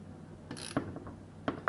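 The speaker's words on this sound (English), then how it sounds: "Okay, so we've cranked that in there tight." Wrench ratcheting as a bolt is cranked tight on a motorcycle triple clamp clamped around a pipe, a few sharp close clicks and clunks over a quiet background.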